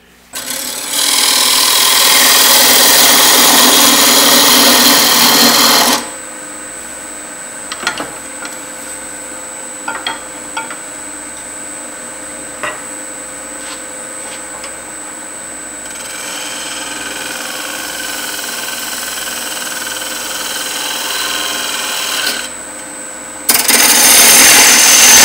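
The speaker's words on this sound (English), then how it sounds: "now I've got another parting tool. I'm going to go down a little bit farther." Wood lathe turning a wig stand while a parting tool cuts in: a harsh scraping rasp at the start and end, between them a quieter steady hum with light intermittent scraping.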